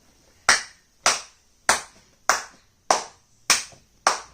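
A group of children clap together for a classmate, seven crisp, evenly spaced bursts about half a second apart, sharp and close with quick decay and no talking between them.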